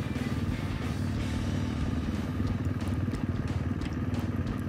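Adventure motorcycles, mostly KTMs and Yamaha T700s, rumble continuously nearby with a rough, throbbing engine drone and faint clatter, steady throughout.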